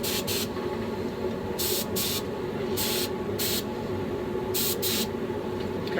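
A paint spray gun applying a brown trout pattern to a fishing lure gives sharp, paired hissing bursts about once a second, over a steady loud background hum.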